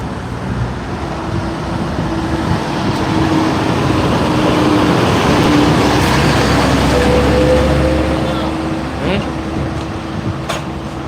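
Traffic roar from trucks passing on a road by the seawall at Gumaca, Quezon, a steady loud wash of engine and tyre noise with people talking over it throughout.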